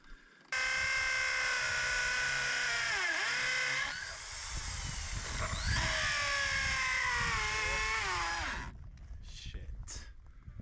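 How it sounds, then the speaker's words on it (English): A power drill whines loudly for several seconds as it bores into rotten wood on a homestead in Portugal, pitch dipping as it bites in and rising again, before stopping abruptly. "drill into the middle, which is pretty much the length of this drill bit"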